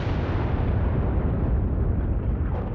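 British artillery shells exploding on French warships in harbour, a heavy, sustained roaring blast with deep rumbling low end and no distinct separate impacts.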